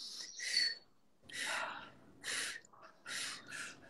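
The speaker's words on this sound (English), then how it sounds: "Breathe in and breathe out." Breathing in and out during a face workout session, four soft, airy breaths in a slow even rhythm, close and quiet with short pauses between them.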